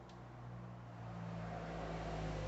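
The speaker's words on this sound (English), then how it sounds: "So you can hear the charger running now." A small cooling fan in the charger of a 1954 Fargo truck converted to electric with Tesla modules runs as a steady, close mechanical hum that grows slightly louder, with no one talking.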